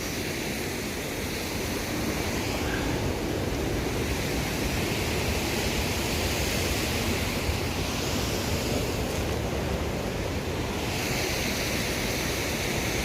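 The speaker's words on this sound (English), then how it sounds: "So this is what I've been hearing. I think this is Upper Whitewater Falls." Upper Whitewater Falls, a waterfall heard from a mountain hiking trail, giving off a steady, dense roar that holds unbroken for the whole stretch.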